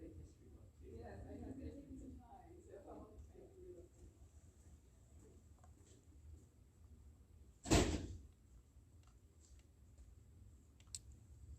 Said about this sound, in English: That extraordinarily loud sound of a door slam.